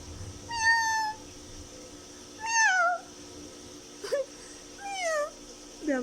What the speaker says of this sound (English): Those are my baby cats.